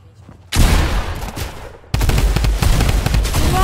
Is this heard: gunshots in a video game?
yes